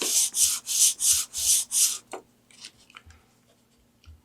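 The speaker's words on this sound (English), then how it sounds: "I'm just going to go back and forth with my sanding block" A sanding block with a 5-inch piece of sandpaper rubs back and forth across wood, six steady rasping strokes close up, followed by quieter scattered scrapes and taps.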